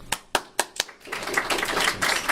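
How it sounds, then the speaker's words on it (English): A few scattered hand claps open, then spread into brief audience applause after a venture capital panel talk on robotics, heard from within the room at moderate level. "Applause."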